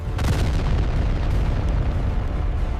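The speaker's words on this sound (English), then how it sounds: "we see a massive explosion" A massive grenade explosion in an animated battle game, a loud sustained roaring boom lasting a few seconds before cutting off sharply.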